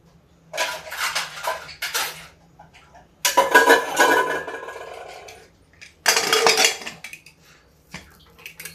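A pressure cooker holding dal being closed up and set to build pressure in a home kitchen, with several bursts of metallic clanking and scraping of lid and pot separated by short quiet gaps.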